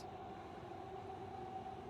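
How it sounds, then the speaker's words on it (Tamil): A steady low rumble and mechanical hum of a metro train arriving in Qatar, continuous and fairly close, with no voices. "நம்ம ட்ரெயின் வருது இது."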